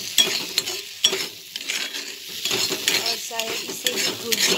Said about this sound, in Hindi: अंडा दे दिया है और अभी इसको मिक्स कर देंगे अच्छे से